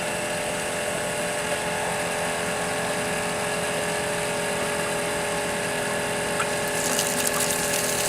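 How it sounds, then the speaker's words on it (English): A FW-300-M water pump runs steadily up close, a constant mechanical hum with tonal whine and rushing water, unchanging throughout. "You can hear the pump engage and it'll begin drawing water."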